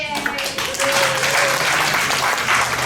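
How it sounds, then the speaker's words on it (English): A carnival ball crowd applauds the Anaheim Karnevalsgesellschaft, loud sustained clapping from many people, with a brief whoop or voice near the start before the clapping swells and carries on evenly. "deserves a big round of applause"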